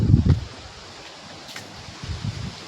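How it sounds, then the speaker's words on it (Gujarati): Gusty wind ahead of an approaching rain storm, rustling and buffeting outdoors in low bursts at the start and near the end, with a brief higher gust midway. "પવન વરસાદ બધું બંને સાથે આવે છે આજે."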